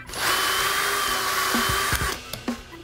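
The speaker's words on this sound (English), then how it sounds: "now you're ready to start drilling some pocket holes" A power drill drilling pocket holes in wood using a jig whines loudly and steadily for about two seconds, then winds down, with a few knocks and clunks as it stops.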